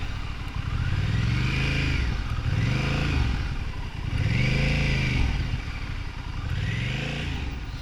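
A Honda Rebel 1100 motorcycle crawls along at its slowest possible speed, its engine note rising and falling in steady, loud surges about every two seconds, with no talk over it.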